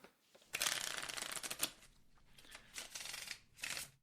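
Playing cards are shuffled close by in several quick, crisp riffling bursts separated by short pauses, with no voices.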